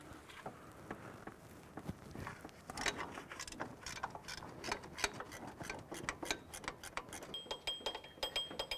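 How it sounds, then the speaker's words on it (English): A 12mm gear wrench ratchets on the alternator pivot bolt of a 2001-2005 Honda Civic, giving rapid, close metallic clicking in irregular bursts with faint tool handling between them. "I'm going to use our 12mm gear wrench, and we're going to loosen this lower adjuster as well, or pivot bolt."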